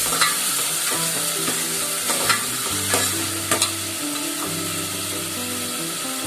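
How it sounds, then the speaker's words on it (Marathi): Onions for pav bhaji sauté in a pan, giving a steady close sizzle with repeated scraping stirs and clinks of a utensil. Low humming tones run underneath and no one speaks. "कांदा चांगला परतून घेते।"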